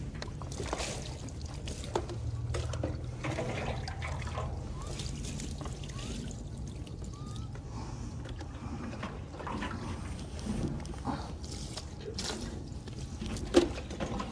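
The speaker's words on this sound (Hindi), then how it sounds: "ये 3 दफ़ा हम पानी इस तरह से बहा देंगे" Water poured over a deceased body during Islamic ritual washing (ghusl): a steady trickling, splashing flow that runs continuously at moderate loudness with a soft background hiss.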